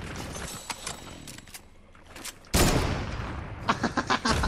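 Sharp sniper rifle shots crack out in a Fortnite match, a few scattered reports followed by a loud burst and a cluster of rapid shots near the end, over game ambience.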